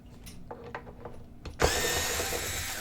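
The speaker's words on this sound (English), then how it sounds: "So a little drill." A small power drill bursts into a steady, loud whir as it backs out the screws of a fiber optic UFO lamp, preceded by a few light clicks and taps of handling the lamp.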